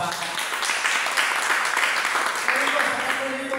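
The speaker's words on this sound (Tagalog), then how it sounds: "Palakpak po natin yung mga bata." Audience applause for children at a Filipino church gathering, a steady crowd clapping sustained through the whole stretch, with a voice speaking over it.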